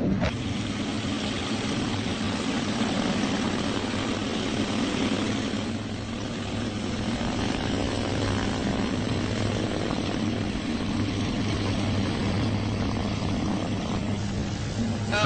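Propeller aircraft engine running at full power during a test flight, a steady, loud droning roar with a low pulsing hum that continues unbroken throughout.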